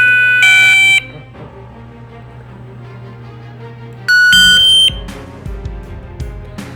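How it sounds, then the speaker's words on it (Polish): Videotronic fishing bite alarm receiver giving two loud, shrill electronic beep bursts, each about half a second long, separated by a few seconds of quieter background hum. "Centralka sygnalizuje nam sygnałem dźwiękowym i wibracyjnym."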